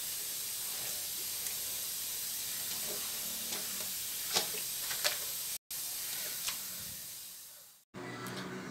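Oil heating in a pot on a stove to fry chicken gives a steady, soft sizzling hiss dotted with occasional small pops and crackles.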